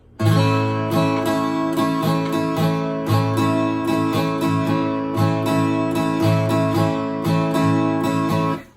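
An acoustic guitar strums a chord on three strings repeatedly in a steady rhythm, ringing clearly and close with no talking.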